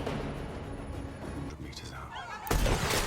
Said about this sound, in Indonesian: sebuah tembakan sniper dari Simpson ditembakkan tepat mengenai tangan dari sang kolonel.